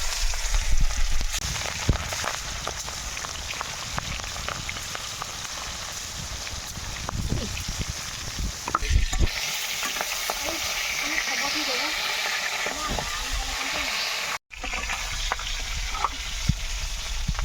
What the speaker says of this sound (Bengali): এবার মাছগুলো দিয়ে ভালো করে ভেজে নেব